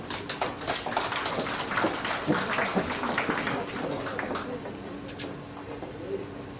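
Applause from the audience at a literary award ceremony for the Kim Gu-yong prize, a steady patter of many hands clapping that thins gradually, with faint voices in the hall beneath it.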